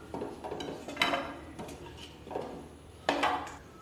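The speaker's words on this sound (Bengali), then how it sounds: "এবার আমি পেঁয়াজগুলোকে তুলে নেব" A metal utensil scraping and clanking against a wok as onions are lifted out, several separate knocks and scrapes, close and fairly quiet.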